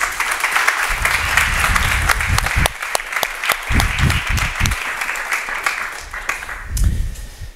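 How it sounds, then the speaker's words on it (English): Conference audience clapping to welcome panelists onto a stage, a continuous close round of applause with a few sharp individual claps standing out, tapering slightly near the end. "Should we welcome the panelists up to the stage and give them a round of applause?"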